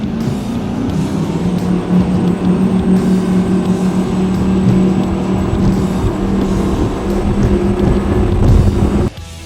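Skater V powerboat with twin 1100 engines running at speed through choppy water on the bay, a loud steady roaring drone with droning engine tones that cut off abruptly at the end.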